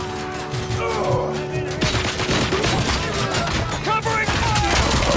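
Covering gunfire rattles in the shooter RoboCop: Rogue City, rapid loud bursts of shots layered over one another while voices shout in the background.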